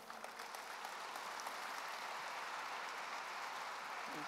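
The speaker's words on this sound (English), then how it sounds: "Please give an applause" Steady audience applause welcoming a speaker at a sport psychology conference, a dense even wash of claps heard from a distance and held throughout.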